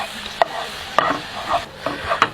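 Coca-Cola heats in a non-stick pan while a utensil stirs and pushes it around, giving a soft bubbling sizzle broken by several distinct scraping knocks.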